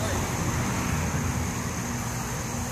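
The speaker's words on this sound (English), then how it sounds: "Sorry for the noise, cars going by." Road traffic passing near a garage-style workspace makes a steady, broadband roar with a low rumble, moderately loud and unbroken throughout.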